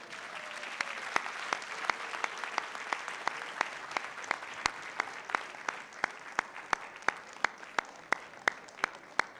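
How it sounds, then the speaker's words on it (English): Audience at a school board meeting giving a round of applause for graduating teachers: soft, steady crowd clapping through the clip, with sharp regular clicks punctuating it and a faint voice early on. "give yourselves one last round of applause"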